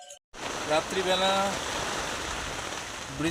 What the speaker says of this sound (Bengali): বৃষ্টি হচ্ছে প্রচুর, বাইরে